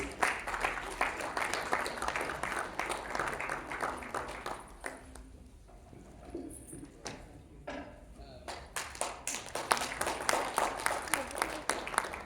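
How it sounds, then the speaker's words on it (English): Audience applause at an industry panel event on AI in manufacturing, a sustained burst of clapping that dips in the middle with a few scattered claps, then swells again. "Can we have a big round of applause, please?"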